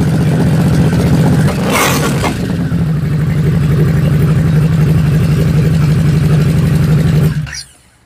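A Harley-Davidson Nightster motorcycle engine runs steadily with a loud, close, low rumble, revving briefly near the start before settling back into a sustained throb that cuts off abruptly near the end.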